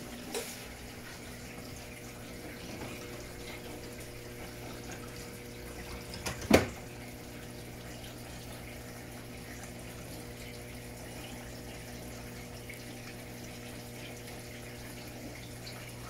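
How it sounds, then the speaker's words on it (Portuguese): An Electrolux washing machine fills with water on a low level setting, giving a steady, even rush of running water and pump hum with a single sharp click midway. No one speaks. "Muita máquina enchendo ao mesmo tempo."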